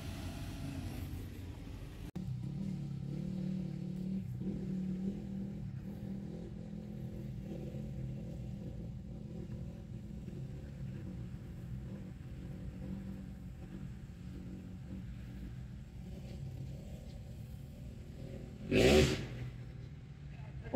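Motocross bike engine at a muddy track, a steady low rumbling idle with throttle blips running throughout, ending in a brief sharp louder rev burst near the end.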